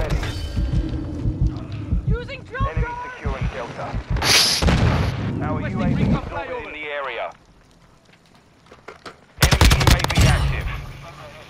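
Video game ground-war firefight with bursts of gunfire and booming explosions, loud and close, layered under heavy overlapping talk from players, with a short lull before a sharp loud blast returns.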